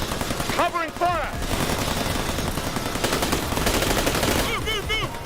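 Rapid bursts of gunfire in the video game Tales from the Borderlands, loud and near, with dense rattling volleys in clusters and shouted voices mixed into the noise.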